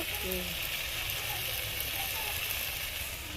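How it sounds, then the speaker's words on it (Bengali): Chicken being fried down (kosha) in a pan gives a steady broadband sizzle through the whole stretch, with faint clinks and a brief tonal sound near the start. "চিকেনটা এখন কষা হচ্ছে"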